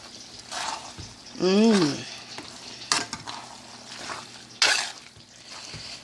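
Macaroni and meat sauce are stirred together in a pot, with wet squelching, scraping and a few spoon knocks close up, while a voice talks over it.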